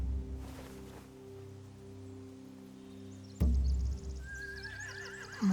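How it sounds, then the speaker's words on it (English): Horses in the video game The Walking Dead whinny, with one loud neigh rising clearly over a low ambient hum, nearby and without any talking. "They have horses."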